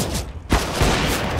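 Gunshot in CS:GO, two quick sharp shots about a third of a second apart, close and loud over steady game noise.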